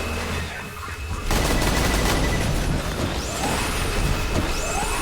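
Shotguns blasting at turrets in the video game Borderlands 2: a quiet lead-in, then a loud sustained barrage of rapid overlapping shots and booms with whooshing effects sweeping through.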